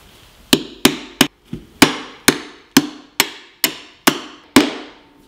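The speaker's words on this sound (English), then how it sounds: "now I'll hammer a 4-inch long carriage bolt through the hole" About ten sharp hammer blows drive a 4-inch metal carriage bolt into wood at a steady, slightly uneven pace, each ringing briefly before the next.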